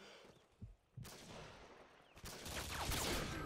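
A sniper no-scope shot rings out in a first-person shooter video game, with a sharp burst of gunfire followed by louder, sustained game action and effects that carry on to the end.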